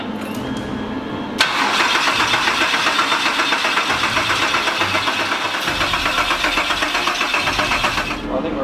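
Holden Commodore 3800 L27 V6 turbo engine built for boost, cranked over on the starter without firing, a steady loud rhythmic churning that runs for several seconds before cutting off.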